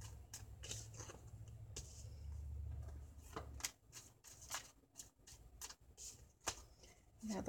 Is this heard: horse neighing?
no